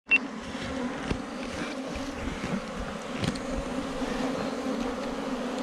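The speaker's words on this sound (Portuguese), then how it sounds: "Que enxame grande, sinceramente." A large swarm of honey bees buzzes steadily and continuously around the listener, a dense close hum with a few individual bees passing near, and no voices.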